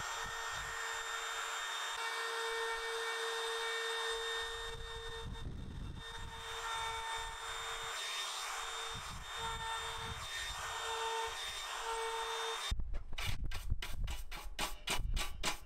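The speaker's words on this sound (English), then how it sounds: "I did the freehand routing just following the lines" A hand router cuts freehand along lines in a wooden sign, a loud continuous high-pitched whine with shifting tone as the bit moves, ending in a burst of rapid rhythmic ticking.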